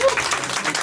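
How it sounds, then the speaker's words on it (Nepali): Wedding guests burst into brief, dense applause, a loud clatter of many hands as a voice talks over it. "एकदम जोरदार ताली बजाइदिनु"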